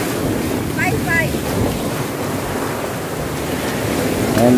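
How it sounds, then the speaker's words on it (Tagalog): Strong ocean waves surge and wash at Isla Jardin Del Mar in Glan, Sarangani, a loud steady roar with heavy wind buffeting the microphone and faint voices in the background. "napakalakas ng mga alon dito"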